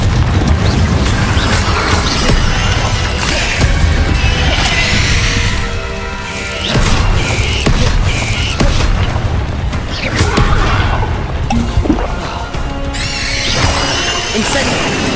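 Explosive Confringo spell blasts in Hogwarts Legacy, a video game, played on hard difficulty: loud booming bursts over a dense, continuous game soundscape with music and other spell effects, repeating through the stretch.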